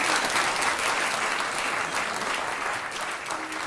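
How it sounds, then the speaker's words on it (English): A concert audience gives a round of applause after a choir performance at the Crinniu Colum 2018 event in Longford, dense steady clapping that eases slightly toward the end. "Give them another round of applause."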